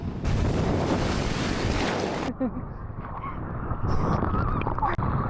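Ocean surf washes onto an Australian beach with loud, continuous rushing noise and heavy wind buffeting the microphone, easing partway through to a softer wash with faint voices in the background.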